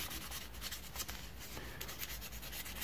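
Fine 1200-grit sandpaper rubbed by hand over a rear drum brake part on a first-generation Honda Prelude, a close, soft, continuous scratchy rasping in quick repeated strokes.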